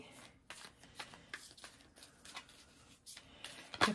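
Crystal oracle cards shuffled for a reading, a quick series of soft riffling bursts close by, quiet overall with a louder snap at the end.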